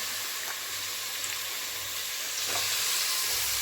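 Vegetables sautéing in hot oil with salt give a continuous loud, hissing sizzle up close, with a couple of soft stirring swishes rising briefly out of the steady frying.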